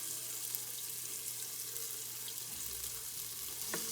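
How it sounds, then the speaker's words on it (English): Bacon sizzles steadily in a frying pan for walleye chowder, a continuous close crackle and hiss with no voices over it. "Hear that sizzle?"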